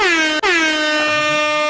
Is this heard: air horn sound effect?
yes